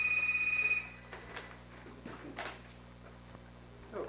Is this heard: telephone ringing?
yes